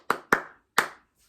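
Three sharp hand claps in a quick uneven pattern, two close together then a third after a pause, clapped back as a rhythm response in an elementary music class, crisp and close with no voices.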